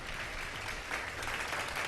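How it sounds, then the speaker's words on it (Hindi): A studio audience at an Iftar quiz show claps in a dense, steady burst of applause, fairly even across the moment with no distinct voices on top. "बहुत सारी तालियां"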